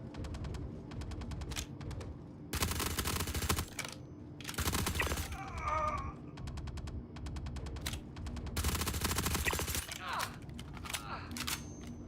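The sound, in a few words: small arms gunfire in video game Star Citizen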